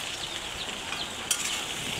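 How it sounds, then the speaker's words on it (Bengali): Pointed gourd frying with turmeric and salt in a pan gives a soft, even sizzle with a single light clink of a utensil midway; fairly quiet and without speech. "প্রথমে পটলগুলো ভেজে নেব হলুদ লবণ দিয়ে।"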